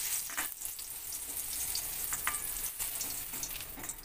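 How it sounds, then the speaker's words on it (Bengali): Eggplant sizzles steadily in hot oil in a pan, a continuous crackling hiss with small pops and occasional stirring scrapes, close and moderately quiet, with no talking. "বেগুনটা আমার লাল করে ভাজা হয়ে গেছে।"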